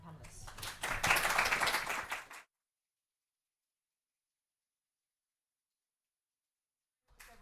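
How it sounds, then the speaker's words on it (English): A short burst of applause for the panellists at a discussion event, clapping swelling over about two seconds and then cutting abruptly to silence, with a faint return at the very end. "I think we should give a round of applause to the panellists"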